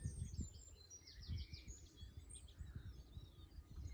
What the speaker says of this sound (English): I'm just listening to the birds.